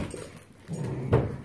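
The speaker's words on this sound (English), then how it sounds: "What are those doggies doing?" Dogs give a brief whimper, a short whiny sound close by that rises at the end, with no talk over it.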